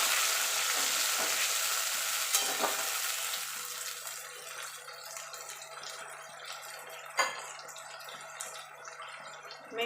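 Potatoes with spice paste sizzle and fry steadily in a pan while a green banana curry is cooked, with a continuous crackling hiss that fades slightly over time and a couple of brief clatters.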